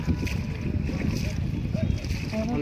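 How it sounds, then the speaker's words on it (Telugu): A boat carries passengers along the Patala Ganga river at Srisailam, with a low rumbling hum and washing water under faint wind and soft voices. "పడవ ప్రయాణం అయితే చేస్తున్నాము పాతాల గంగలో"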